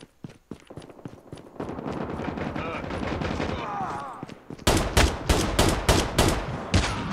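Repeated gunfire from the Call of Duty Mobile gun game team fight mode, with rapid loud shots, including revolver fire, coming in bursts, heavier and sharper in the second half over busy in-game noise.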